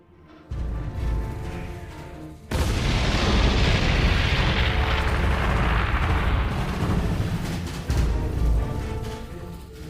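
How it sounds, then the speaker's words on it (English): A WWII tank battle at Kursk sounds out as a sudden massive explosion, followed by a sustained roaring rumble of blasts and fire. Further bursts swell near the end over a dense, loud background with no voices. "I heard an explosion."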